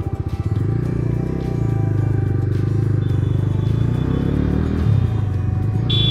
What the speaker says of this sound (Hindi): बेसियर एग्जॉस्ट